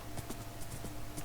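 Horse hooves in the game Minecraft clip-clop at a steady, fairly quick pace, the soft repeated footfalls sitting under a faint constant background hum.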